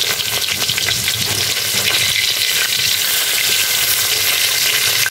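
Roe-filled hilsa fish keep frying in hot oil after being turned, with a steady, close, loud sizzle and crackle throughout and no voices.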